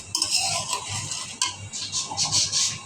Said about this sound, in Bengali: এই মশলাটা এখন আমি সুন্দর করে কষিয়ে নেব